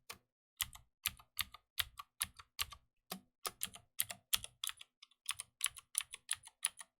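Steady, close typing on a computer keyboard, crisp keystrokes in a fairly even rhythm with brief pauses, no voices present.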